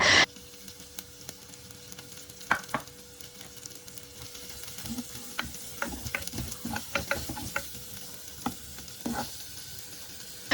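Shallots sizzle and fry quietly in coconut oil in a pan, with intermittent stirring scrapes and clatters from a utensil.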